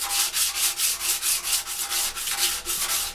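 A hard sanding block works Bondo filler by hand on a motorcycle fairing, making a steady rhythmic rasp with quick back-and-forth strokes of about four per second, close and alone.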